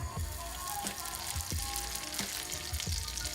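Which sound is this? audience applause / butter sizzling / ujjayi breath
butter sizzling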